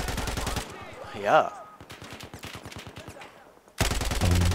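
Gunfire in the video game Battlefield 4 comes in loud rattling bursts, with a rapid run of regular shots in the middle and heavy volleys at the start and end, while someone briefly speaks.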